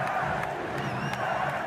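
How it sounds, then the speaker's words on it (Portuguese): Football crowd of Vasco da Gama supporters chanting a departing player's name in a stadium tribute, a dense sustained roar of voices with rising shouts and whistles, steady and loud throughout. "a torcida gritando seu nome"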